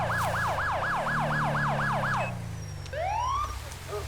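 A wailing ambulance siren in GTA 5 sweeps rapidly and steadily over an engine drone, then cuts off and gives way to a few rising chirps, loud and close.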